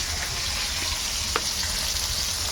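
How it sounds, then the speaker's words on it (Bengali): Fish fries in a pan over a village cooking fire, a dense, steady close sizzle with one brief scrape partway through. "মাছ ভাজা হচ্ছে বেশ সুন্দরভাবে"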